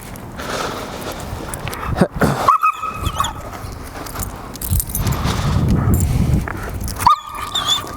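A dog barks, yelps and whimpers in short, uneven bursts during leash training on a walk, close to the mic, with keys or metal tags jangling and a car passing nearby.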